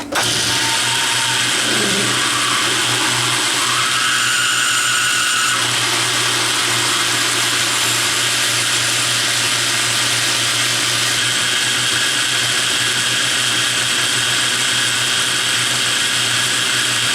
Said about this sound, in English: I'm going to swap it over to a 3/8 drill, which is the tap drill size for the 7/16 18 BSF tap